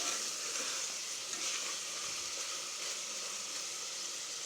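Chili powder frying in sesame oil, a soft, steady hiss of sizzling at low volume, continuous and even with no talking over it.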